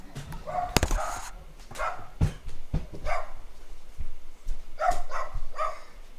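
A dog barks in a home, giving repeated close, loud barks and yips in irregular bursts with short pauses between them.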